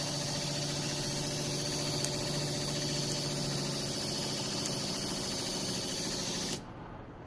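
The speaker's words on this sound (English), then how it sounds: "Now the pump's not shutting off, so we have opened the bypass valve too much." A Seaflo 53 Series 7.0 GPM water pressure pump runs continuously with a steady hum and hiss, then cuts off abruptly near the end, leaving quiet.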